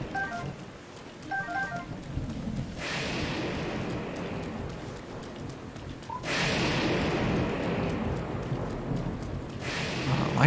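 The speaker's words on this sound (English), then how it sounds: "Lightning striking around here." Thunderstorm in Breath of the Wild, heavy rain hissing steadily while lightning strikes crash in two loud booming bursts, each rolling on before fading back into the downpour.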